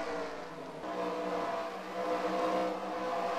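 Race car engines in the NASCAR Racing 2003 video game during a race at Auto Club Speedway, a faint, continuous droning whine of several cars that swells slightly midway, with no talking.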